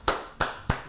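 Three sharp, evenly spaced hand claps, close and clear with brief decay between them, no voices.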